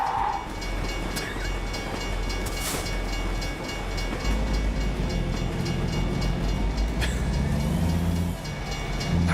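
A train rolls past in the American Truck Simulator game, a steady loud rumble of rail cars and wheels clacking on track that holds for the whole stretch, with a brief higher squeal early and a low engine drone swelling near the end.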